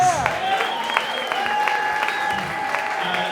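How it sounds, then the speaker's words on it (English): An audience at an on-stage talk and interview event claps steadily for a departing performer, with a few sustained whoops or whistled tones riding over the dense clapping. "One more round of applause for Sasha Dobson, please"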